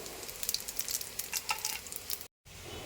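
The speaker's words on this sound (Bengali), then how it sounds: "মাছ ভাজা তেলে দিয়ে দিলাম তেজপাতা এবং রাঁধুনি জিরে।" Bay leaf and radhuni seeds hit hot oil left from frying bata fish, crackling in a dense, close sizzle with sharp spitting pops for a couple of seconds, with no voices.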